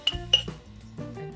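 Long-handled teaspoons clink together in a home kitchen during soup making: two sharp, bright metallic clinks close together, then softer rattling and clatter of cutlery and dishes.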